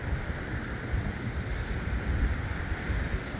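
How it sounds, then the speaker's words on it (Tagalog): Strong wind roars steadily, buffeting the microphone with a broad, continuous rushing noise and no voices. "At apakahangin ho."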